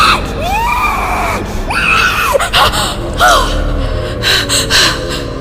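A woman screams and gasps in a horror story scene, several sharp rising and falling shrieks broken by gasping breaths, loud and close, with no talk over them.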